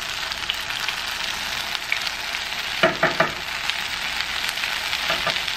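Keto naan bread sizzling in avocado oil in a pan, a steady close frying hiss throughout with a few sharper crackling bursts partway through, no talking.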